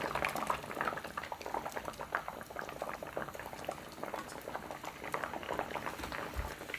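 Pollack stew with radish bubbling in a pot, a steady busy burble of boiling liquid throughout at low volume, with no talk.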